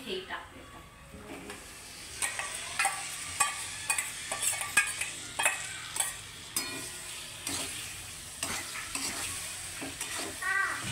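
Marinated vegetables are stirred into fried onion and tomato in oil for a homemade veg dum biryani, with a soft sizzle and a run of rhythmic spoon scrapes and taps against the pot, fairly quiet and close.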